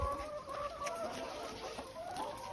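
Chickens cluck in a shed on a poultry farm, faint and steady, with scattered short calls over a low background hum.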